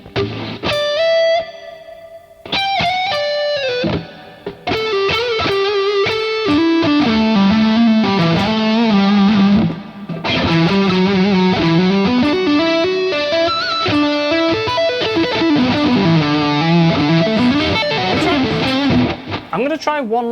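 A bright synth lead in Lumos plays a flowing melody, each phrase trailing into a long, washy reverb tail of about five seconds that fills the gaps between notes.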